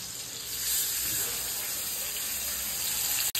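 Prawns frying on a tawa griddle produce a dense, even hiss that runs continuously at moderate volume, with a brief sharp knock near the end.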